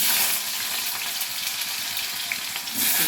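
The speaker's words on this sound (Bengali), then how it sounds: "এই ফোড়নটা যে সময় ভাজা হয়ে গেল, তখন এই আলুটা এর মধ্যে ছেড়ে" Potatoes dropped into hot oil with fried whole spices for jackfruit curry (enchorer dalna) give a loud, steady, hissing sizzle that runs unbroken throughout with no talking.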